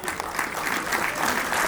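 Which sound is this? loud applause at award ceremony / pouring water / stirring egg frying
loud applause at award ceremony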